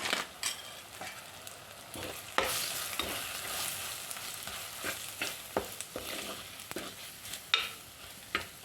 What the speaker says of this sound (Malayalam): ഇനി ഈ പൊടികളെല്ലാം നമുക്കൊന്ന് വഴറ്റിയെടുക്കാം